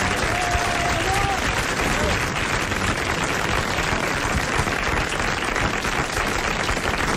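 Loud, dense applause from a studio audience on a 1983 French television show, a continuous wash of clapping at close range with a little crowd noise and some voices mixed in.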